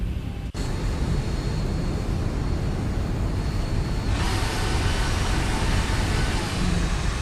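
Boeing 737 jet engines spool in a flight simulator, a steady broadband roar that holds evenly throughout and brightens and swells slightly partway through, with no talk over it.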